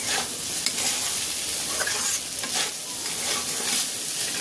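Boiled vegetables are stirred and fried in a pan for chire pulao, a continuous close sizzle broken by periodic scraping strokes of the spatula, with no talking.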